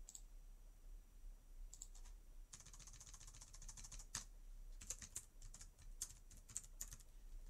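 Someone types on a computer keyboard in scattered bursts of quick, crisp key clicks with short pauses between them, close and fairly quiet, with no talk.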